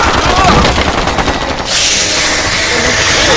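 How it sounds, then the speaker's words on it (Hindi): Loud, continuous rapid automatic gunfire, close and unrelenting, a dense rattle of shots that keeps going without a pause. "बिना रोके गोली चलाते रहो।"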